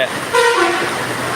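A KSRTC bus gives a single short honk, loud and close, rising briefly over steady road noise on a flooded road.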